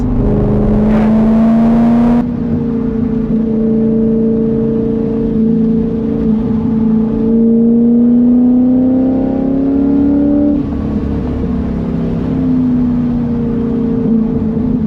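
A DIY race car engine accelerates on the gas, its steady drone rising and falling in pitch through shifts, loud and close throughout.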